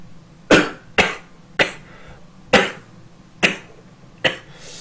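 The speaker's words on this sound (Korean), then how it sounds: "방송 중에 기침을 좀 할 수 있는데" Six sharp, forceful coughs from a person with the flu, spaced about a second apart, each a quick burst that fades fast, close and fairly loud with no talking.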